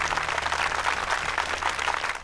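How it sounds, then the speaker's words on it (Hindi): Crowd applause welcoming a guest at a public gathering in a dubbed film scene, a continuous, fairly even wash of clapping over a low background hum. "आप इनका तालियों से स्वागत करें।"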